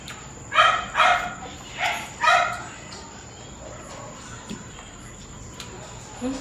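A dog at an outdoor grilled-food meal barks and whines for food, giving four close barks in quick succession followed by softer, quieter noises. No one talks.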